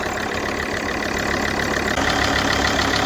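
Alfa Romeo 159 JTDM diesel engine, which has a coolant leak, running at a steady idle, a dense continuous mechanical drone with no break and no voices.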